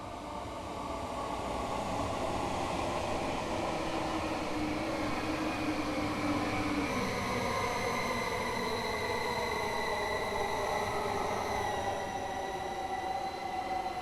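A 12-car Class 700 electric multiple unit in Train Sim World 4 rolls past steadily with a continuous loud rumble of wheels on rails, a rising electric motor whine and faint wheel squeal, no speech.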